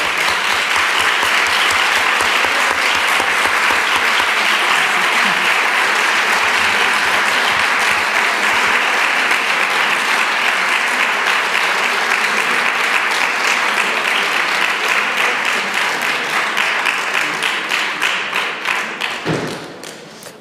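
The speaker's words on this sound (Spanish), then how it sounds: "este largo aplauso" Long sustained applause from a large audience at a political event, a dense steady roar of clapping that carries on for about twenty seconds before tapering off at the end.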